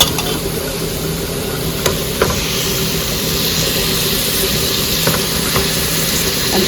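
Unmarinated chicken pieces dropped into a hot pot for chicken dum biryani set off a loud, steady sizzle and hiss, with a few sharp clinks of a spoon stirring close by and no voices.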